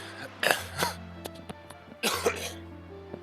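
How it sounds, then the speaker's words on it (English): Two bouts of coughing from one person close to the microphone, each a burst of two or three harsh coughs with a throat-clearing quality, separated by quiet over a steady low background hum. "sorry for the cough, I'm okay."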